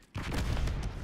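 Stun grenade thrown in Call of Duty Black Ops 6 multiplayer, a single dense burst that holds as a loud, rumbling wash for about a second with no talk over it.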